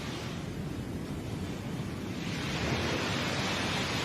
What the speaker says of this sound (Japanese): また波の音が聞こえる。